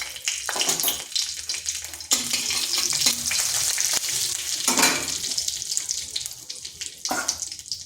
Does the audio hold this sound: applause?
no